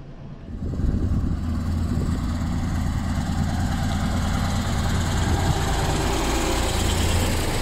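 A four-wheel-drive motorhome's engine runs steadily with a heavy, low rumble while driving a desert track in Tunisia, rising from a quieter start to a constant, close drone with no talk.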